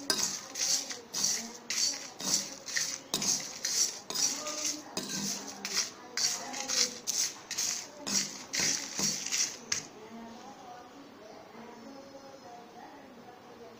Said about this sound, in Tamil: இப்போ மிளகாய் வற்றலையும் நான் உள்ளே போட்டு வறுத்தரலாம்